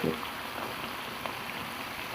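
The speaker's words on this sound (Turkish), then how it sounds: "Mayalı bir hamur olduğu için şöyle kızartarak size göstereceğiz." Yeasted dough fries in hot oil with a steady, dense sizzle and fine crackle that holds evenly throughout, close and fairly quiet.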